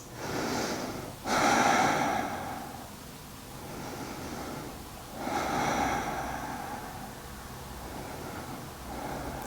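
Deep breaths during a yoga side stretch, close and audible: a sharp inhale followed by long slow exhales, with a second loud breath cycle a few seconds later and no talk.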